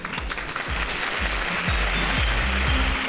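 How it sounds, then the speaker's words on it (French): A crowd applauds steadily for a few seconds, dense clapping with some louder moments and a few voices underneath. "Et on les applaudit!"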